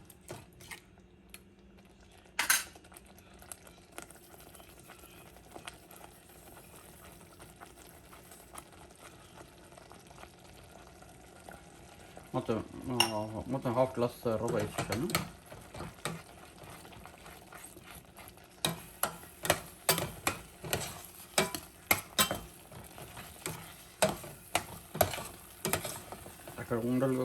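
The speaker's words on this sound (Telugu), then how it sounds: "జస్ట్ కలుపుతున్నాను, గట్టిగా ప్రెస్ ఏమి ఇవ్వట్లేదు" A spoon stirs tomato bath (tomato upma) made with semolina and water in a pan, with close, rhythmic scraping and wet stirring strokes that start partway through and continue in uneven bursts, with a brief bit of speech.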